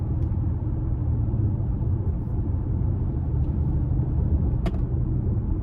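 A 2023 Audi SQ5 runs with a steady, deep engine and exhaust drone, continuous low rumble throughout with a faint click partway through.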